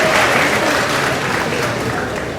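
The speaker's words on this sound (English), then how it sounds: "Let's give them a round of applause." Audience at a university commencement ceremony applauding loudly and continuously for a couple of seconds, a broad wash of many hands clapping at once in a large space, fading slightly toward the end.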